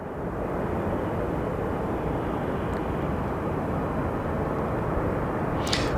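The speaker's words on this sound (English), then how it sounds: "Up next is Southwest Airlines 2021, another flight from Cabo" A Southwest Airlines jet arriving from Cabo at Phoenix Sky Harbor Airport gives a steady, loud, broadband roar that holds evenly throughout, with no talking over it.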